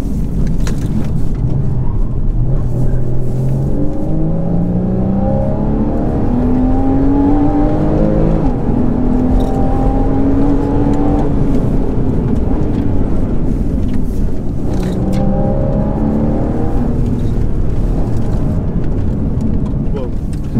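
A Porsche Cayman S 981 sports car on a test drive, its engine note climbing in long rising sweeps through the gears and then dropping back, loud and close throughout.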